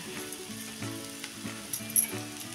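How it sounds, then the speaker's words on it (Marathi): Sabudana khichdi with steamed potato sautéing in a pan, a soft steady sizzle with repeated scraping stir strokes in a loose rhythm and one sharper clatter near the end. "आणि चांगली मऊ होईपर्यंत ही खिचडी आपण अशी परतून घेऊया"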